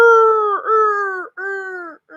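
A voice imitating a rooster crowing among chickens, hens and cows in a warm cave: loud, drawn-out tonal calls in three sustained bursts with short breaks between.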